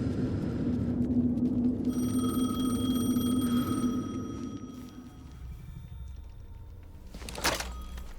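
A telephone rings in the video game Alan Wake 2. A steady electronic ringing tone sounds over a low ambient rumble, then stops, leaving quiet atmosphere and a brief thump near the end.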